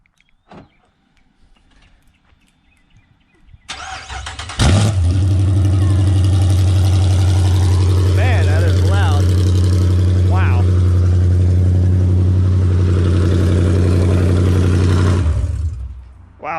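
Dodge Charger RT engine firing up and revving on open headers with no exhaust, very loud and raw, a sudden start settling into a steady roaring idle with a few blips of throttle, close by inside a garage.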